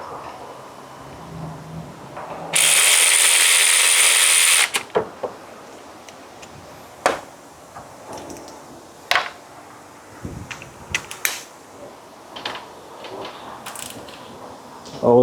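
Ratchet tightening a bolt while replacing the alternator on a 2004–2008 Acura TL, a loud sustained buzzing burst of rapid clicks for about two seconds, followed by scattered metallic clunks and handling noises close by.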